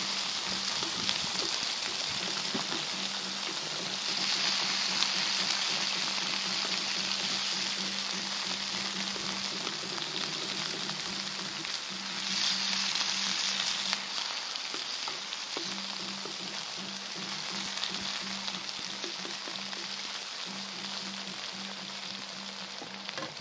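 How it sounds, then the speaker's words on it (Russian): Steady, close sizzling and crackling of onion and meat frying in a saj pan, continuous throughout with faint stirring scrapes now and then. "Жарим до золотистой корочки."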